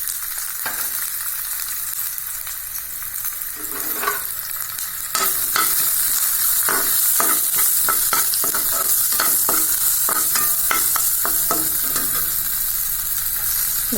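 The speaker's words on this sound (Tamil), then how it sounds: "வெங்காயம் போட்டுடலாம்" Onions frying with fennel powder in a kadai for kondakadalai podimas varuval, a loud, constant sizzle with rapid, rhythmic spatula scrapes and taps that turn faster and denser partway through.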